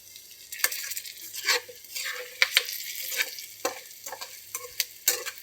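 Small bitter gourds fry in a pan with curry leaves, giving a steady sizzle with repeated sharp scrapes and clinks of a stirring spoon against the metal, close and alone without talk.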